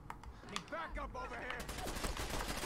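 Rapid turret gunfire in Fallout 4 at the Corvega Assembly Plant, a dense burst of repeated shots running steadily through the whole stretch, with brief voice-like tones mixed in partway.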